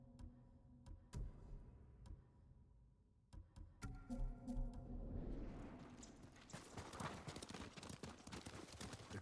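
Horse hooves clip-clop in Ghost of Tsushima, sharp separate strikes at first, then thickening into a busier galloping clatter layered under game music and ambience.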